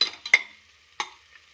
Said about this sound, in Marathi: एक मिनिटभर याला छान परतून घेऊया